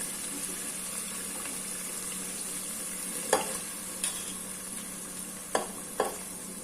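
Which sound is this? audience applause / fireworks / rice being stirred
rice being stirred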